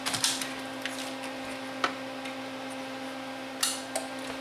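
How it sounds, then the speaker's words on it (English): The tray of a Sony CDP40 CD player closing and its clamp lowering, a faint motor whir under a steady electrical hum, punctuated by a few small mechanical clicks and a clunk near the end. "When I close it, the tray closes and the clamp lowers."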